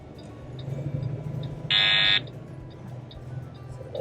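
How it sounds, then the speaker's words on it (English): A truck's electronic logging device gives a single loud, sustained electronic beep lasting about half a second when the driver is over hours, over the low steady rumble of the truck cab. "if you're over, it's going to beep at you when you start driving again"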